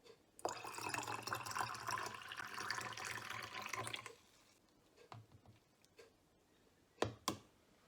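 Water pours steadily into a vinegar barbecue sauce mixture for about four seconds, then stops, followed by a few scattered drips and two sharp clinks, quiet and with no talk.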